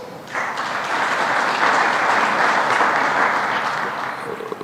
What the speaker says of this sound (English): she deserves a clap for being very supportive on this cause